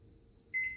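A single short electronic beep from an oven timer being set in a home kitchen, with the oven at 350 degrees, rings out clearly after a moment of low, quiet room hum.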